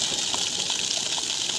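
Water gushes hard and steadily from a 3000W BLDC borewell pump drawing from 500 feet through a 1.5-inch pipe, a constant loud hissing rush with no pauses.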